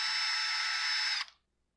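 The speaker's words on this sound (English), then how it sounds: "let's get these screws ran back home" A power driver runs screws back into a Husqvarna 129L string trimmer, a steady high whir held for about a second before it stops abruptly and fades into near silence.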